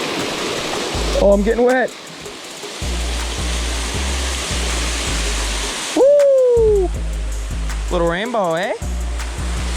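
A backwoods waterfall roars loud and steady close by, a dense continuous rush filling the scene, while someone talks over it during fly fishing for trout.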